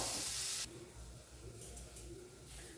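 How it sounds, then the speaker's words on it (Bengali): Garlic, ginger and green chillies fry in oil: a loud, close sizzle at first drops to a softer, steady crackle with light stirring scrapes. "তোমরা কি দেখতে পাচ্ছ আমি এইভাবে ভেজে নিচ্ছি এই দেখো এর মধ্যে রসুন আদা কাঁচা লঙ্কা এটা এইভাবে আমি ভেজে নিয়েছি"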